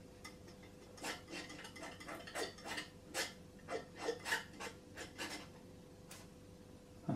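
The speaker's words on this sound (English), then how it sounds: "just scraping a tiny bit just with the end of the palette knife" Quiet scrapes and light clicks of a palette knife working acrylic paint on a palette, red being mixed in with the tip, forming a loose irregular series of short close strokes with no talk.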